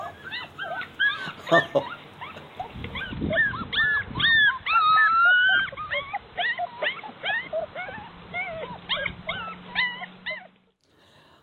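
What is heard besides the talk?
wolf puppies whimpering and yipping in a played video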